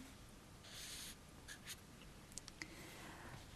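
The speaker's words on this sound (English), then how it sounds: "I'll just write it in for the moment." A pen or pencil writes a number on paper during a decimals maths lesson, a few soft short scratching strokes, close but faint against a steady hiss.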